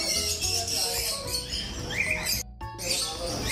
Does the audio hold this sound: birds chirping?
yes